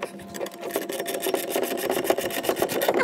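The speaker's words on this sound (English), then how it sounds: "go ahead and mount the side screws with the Allen head on it" Side screws fastened with an Allen key while mounting Baja Designs fog lights on a Ford Raptor, a steady close-up run of rubbing, grinding metal ticks and scraping, fairly loud throughout with no speech.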